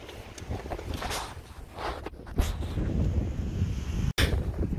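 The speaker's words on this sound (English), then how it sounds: "it is quite windy out here today" Strong wind buffets the microphone in rough, continuous gusts, loud and close, with a brief dropout near the end.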